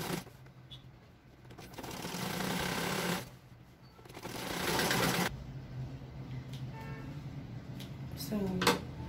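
A home sewing machine stitches down the side of a standard pillowcase in two sustained whirring runs, separated by pauses filled with fabric handling, clicks and brief speech.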